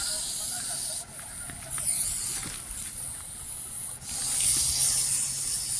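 An irritable snake hisses in loud, breathy, sustained bursts at close range, surging and easing repeatedly against a noisy outdoor background.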